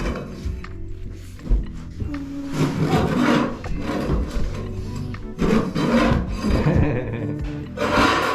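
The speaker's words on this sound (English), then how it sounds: "removing the old carpet and scraping off the old underlay" Old carpet underlay is scraped off a floor in a Japanese bedroom, producing repeated rough rasping and rubbing strokes with occasional thunks, loud and close throughout.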